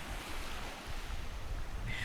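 Sea waves wash at a beachfront, a steady broad rush of surf with wind noise buffeting the microphone, continuous and fairly loud with no speech.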